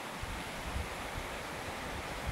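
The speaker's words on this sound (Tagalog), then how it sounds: "kumukusog yung simoy ng hangin" Steady wind gusting and rising near a kubo hut, a broad continuous rush with low buffeting rumbles against the microphone, no voices.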